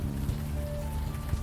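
Steady rain falling on surfaces in the video game Unavowed, a dense even patter with a faint tonal hum underneath, uninterrupted and without any talking.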